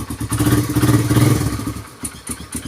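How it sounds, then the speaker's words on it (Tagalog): Suzuki Raider 150 carburetor motorcycle starting, its engine catching and running at a steady, loud idle close by, then dropping into a few uneven thumps toward the end. "Paandarin natin siya"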